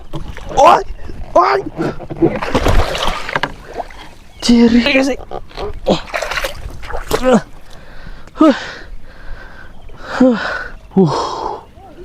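A raft made of banana-tree trunks paddled along a village canal, with intermittent paddle strokes and watery splashes close by, mostly under a person talking.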